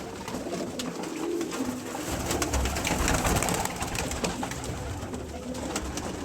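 Soft, repeated cooing from Teddy golden cross pigeons, an adult and its chick, kept on a rooftop, fairly faint and close amid a low ambient background, with no talking.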